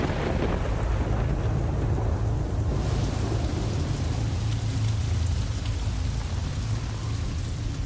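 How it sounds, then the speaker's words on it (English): Heavy rain pours down in a steady, dense roar after days of continuous downpour, with low rumbling thunder beneath, loud and unbroken throughout. "After 8 days of solid rain"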